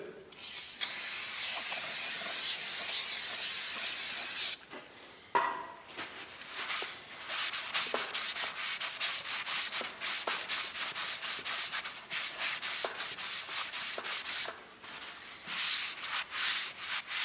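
A brush scrubs the rear brake caliper mount on a 2004 Saab 9-3 1.8t with a dense, hissing rasp, a short pause, then quicker back-and-forth strokes, all close up and without talk.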